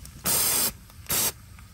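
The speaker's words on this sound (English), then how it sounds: "we're just gonna get some brake cleaner, give it a few sprays, clean it up" Two short bursts of brake cleaner spray on a Honda Odyssey engine's VTEC solenoid area, the first longer than the second, hissing loudly against a quiet background.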